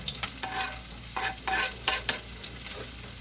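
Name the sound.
onion dropped into pan frying after garlic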